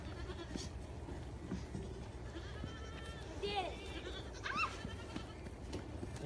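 Baby goats on a farm give a couple of faint, wavering bleats over steady low background noise, with talk murmuring in the distance.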